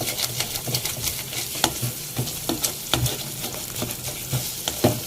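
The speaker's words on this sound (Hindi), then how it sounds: "चमचा बस आपको चलाते रहना है इसके अंदर।" A spoon stirs eggs through sizzling masala in a hot pan, giving steady frying crackle with regular scraping strokes about every half second, close and moderately loud, with no voices.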